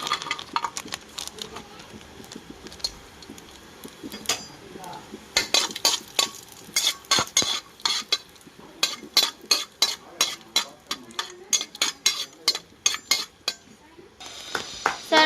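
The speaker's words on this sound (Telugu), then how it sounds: "ఇదైతే కొంచెం బ్రౌన్ కలర్ వచ్చేంత వరకు అయితే ఫ్రై చేసేసుకున్నామండి." Cashews frying in hot ghee in a metal pan, a spoon scraping and clinking in repeated quick strokes over a soft sizzle, the stirring growing busier and more rhythmic partway through.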